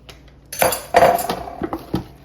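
Vegetables dropped into a cooking pot, giving a few clinking, rattling knocks of metal and contents, close and moderately loud, in several quick separate thumps.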